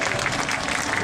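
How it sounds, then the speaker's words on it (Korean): A crowd at a rally where non-regular workers speak out gives steady, dense applause, a brief unbroken burst of clapping at moderate volume welcoming a speaker. "큰 박수로 모시겠습니다"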